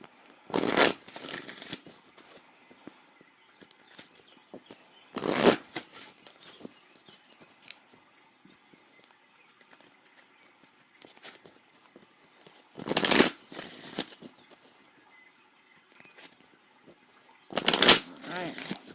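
Tarot cards are shuffled in short crisp riffling bursts, four of them a few seconds apart, close to the microphone, with quiet gaps and a reader's voice faintly present between.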